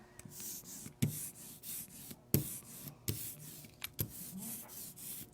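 An ink roller rolls on an inking surface for fabric block printing, a sticky, crackling sound repeating in steady passes, with sharp tacky pops at each turn, close up and fairly quiet with no talking.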